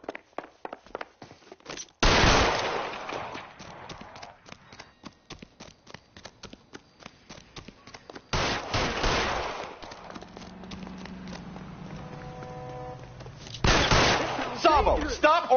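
Gunfire in L.A. Noire: sharp shots burst out loudly, with several heavy blasts and scattered rapid cracks mixed among voices and game sound effects.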